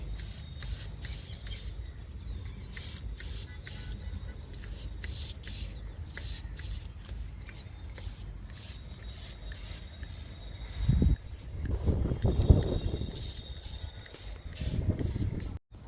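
Neem oil mixture sprayed onto ridge gourd leaves: a steady, close hiss of misting runs throughout, with brief louder rustles and bursts near the end.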